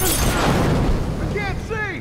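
A smoke grenade bursts in a shooter video game, a loud rumbling blast that fills the start and trails off, followed by a voice speaking over the fading hiss.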